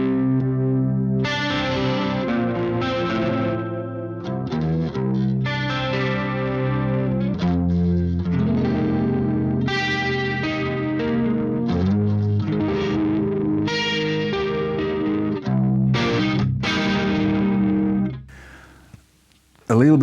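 A clean guitar tone through a Marshall Silver Jubilee 2525H amp with chorus added plays shimmering, sustained chords and single notes for nearly twenty seconds, loud and up close, then drops to near silence before a final burst.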